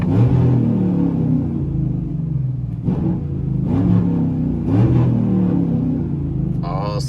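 Heard from inside the cab of a 2015 Chevrolet Silverado Texas edition, the engine rumbles low and steady, with a few revving swells rising and falling.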